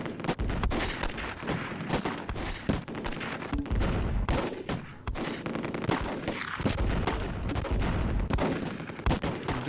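Battlefield gunfire in the war strategy game Close Combat, set in hedgerow country: steady volleys of rifle and machine-gun shots, some close and sharp, some farther off, rolling on with no break and no talk.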